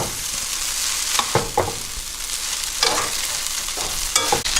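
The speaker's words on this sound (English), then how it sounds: "mix all the garlic with the noodles" Noodles and garlic are stirred and tossed in a hot pan, a steady close sizzle broken by several louder scraping stirs, with no talk.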